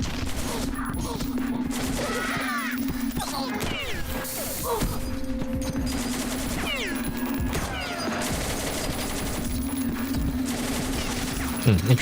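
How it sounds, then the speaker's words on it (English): Rapid machine-gun fire in the video game Beyond Citadel runs through the whole stretch in sustained bursts, mixed with game effects and impacts, while a steady hum sits underneath. "When you're shooting the machine gun, it actually slows you down."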